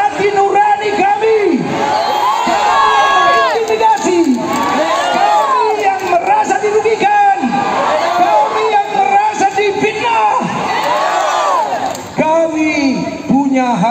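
Large protest crowd outside the North Sumatra provincial parliament, a dense, continuous roar of shouting and chanting voices, loud and close throughout, with many overlapping yells.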